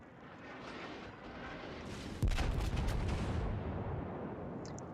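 Naval gun salvo in World of Warships with the German battleship Großer Kurfürst under fire: a heavy, loud booming impact hits midway over a constant sea and engine rumble, then rolls off into a long rumbling decay.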